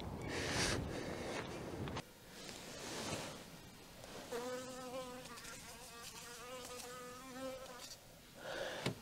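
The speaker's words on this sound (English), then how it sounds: "Oh my god, this bee is trying to sting me." A bee buzzes close by outdoors in early spring, its wavering drone rising and falling as it circles near, with rustling noises around it.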